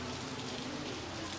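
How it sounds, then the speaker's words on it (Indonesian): Heavy rain falling in Vanuatu, a dense, even hiss of downpour that stays steady throughout, filling the scene without breaks and no voices over it. "Tuh, daerah sana hujan deras banget."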